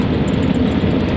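Vehicle driving in fourth gear at about 40 km/h on a very stony, rocky outback track, a steady loud engine roar and rumble with no break, close and alone.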